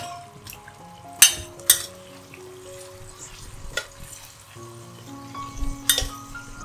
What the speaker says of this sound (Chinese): 放入番茄，炒一炒。